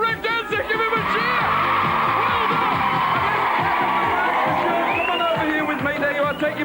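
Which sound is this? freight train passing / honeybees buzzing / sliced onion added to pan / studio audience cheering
studio audience cheering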